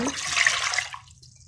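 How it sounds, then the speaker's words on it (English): Water poured into a pan for a salt or sugar crystal-growing project, a brief splashing gush that rises and then tapers off within about a second, close and fairly loud with no talking. "you're going to put 1 cup of water in each pan"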